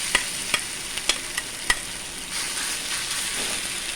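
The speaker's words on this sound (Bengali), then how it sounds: "তেলটা গরম হয়ে গেছে, এর মধ্যে আমি ছানা আর আলু সেদ্ধটা দিয়ে দেবো।" Chhana and boiled potato frying in hot oil as filling for stuffed papad curry, a steady close sizzle with several sharp clicks of a spoon against the pan early on, then a broader hiss.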